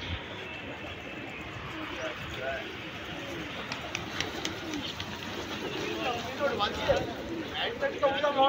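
Soft pigeon coos repeat among outdoor ambience and background chatter, with a busy, noisy field throughout.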